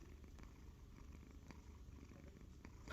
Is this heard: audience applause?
no